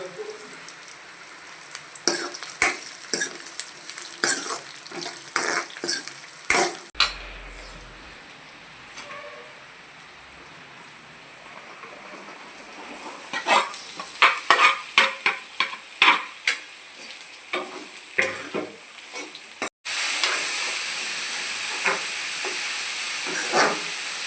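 Dried red chillies fry and get stirred in a pan for a ridge gourd poriyal. A steady close sizzle sits under repeated scraping strokes, and a louder, even hiss takes over near the end.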